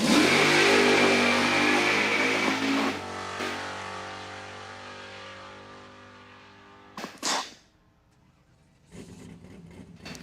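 A drag racing truck accelerates hard on a time run at a dragstrip, its loud engine roar climbing through gears before fading into the distance, followed by quieter trailing noise.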